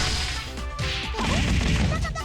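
A sharp shattering crash from the video game Senran Kagura Burst, like glass breaking, set in dense, continuous game sound with overlapping whooshes and hits, loud and steady throughout.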